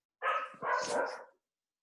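A dog barks twice in quick succession, fairly close and clear, in the background of an online webinar meditation session, with the second bark drawn out and falling away into silence.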